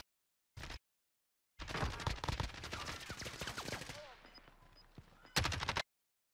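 Video game gunfire from Call of Duty Warzone, with a short burst followed by a longer stretch of rapid automatic fire layered with game effects, then a final burst, loud and close.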